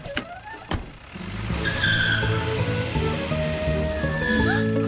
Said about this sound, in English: The moving truck should be here any minute.